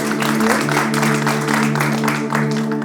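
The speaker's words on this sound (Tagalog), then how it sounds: "Pwede ba nating bigyan ng malakas na palakpak ang Lord?" A church congregation claps in a loud, sustained round of applause over steady sustained tones, dense and even throughout.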